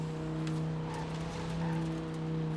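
A car drives in Cyberpunk with a steady engine drone and hum, plus faint tire squeal and skidding scrapes at moderate volume, and no talking.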